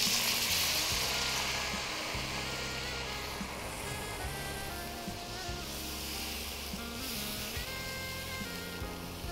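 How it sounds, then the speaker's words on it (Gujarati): Water poured into a gram-flour gravy frying in a pan gives a sustained hissing sizzle that stays steady and moderately loud, with a low tonal hum underneath. "હવે થોડું પાણી એડ કરીશું."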